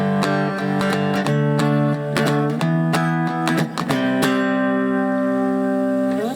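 An electric guitar played through a Valeton Dapper Mini effects strip with treble and reverb turned up plays bright plucked chords with a soft reverb tail, notes ringing out and blending, steady and clear with no voices.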